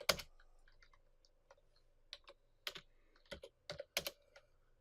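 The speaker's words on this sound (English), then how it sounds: "Now if I just type in ktpass" Typing a ktpass command on a computer keyboard: a burst of close, crisp key clicks at the start, then scattered single presses and short clusters of taps in an uneven rhythm, with no talking.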